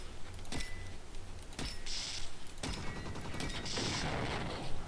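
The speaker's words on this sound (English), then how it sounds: "let's reload as we walk on over" Metallic clicks and clacks of a gun being reloaded in a video game, a few sharp mechanical snaps spaced apart over steady background noise.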